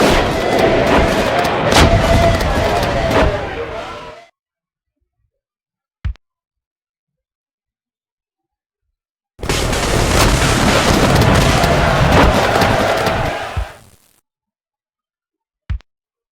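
Civil War battle video game artillery, two long rumbling stretches of booming cannon fire with crowd-like battle noise, each followed by a lone sharp boom in the quiet.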